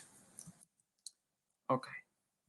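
A few sharp, isolated computer mouse clicks ring out in near silence, with a short burst of speech between them.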